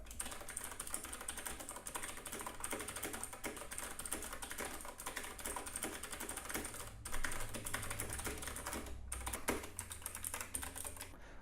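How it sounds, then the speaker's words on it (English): Continuous typing on an Ajazz AK60 mechanical keyboard, a rapid steady clatter of key presses close up with no voices. "here's a typing sample of what it sounds like"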